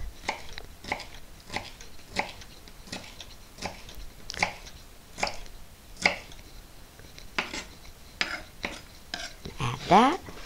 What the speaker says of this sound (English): Then I will then slice that into much smaller crude pieces.